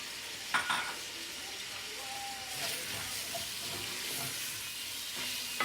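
Chopped onion and garlic sizzle softly in a pot, with the scrape and clink of a spoon stirring now and then over the quiet, steady frying.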